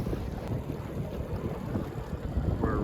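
A strong headwind ahead of a storm roars across a boat on open water, a dense, continuous low buffeting rumble close to the microphone, with a brief higher tonal whine near the end.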